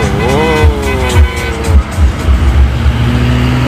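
A convoy of six-wheel dump trucks rolling past on the way to a temple in Chanthaburi, loud close engine roar with a rising and falling revving tone and heavy low rumbling pulses as the trucks go by.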